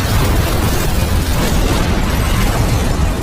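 A car explodes in an action film, a loud, dense roar of blast and burning debris that fills the whole stretch without letting up.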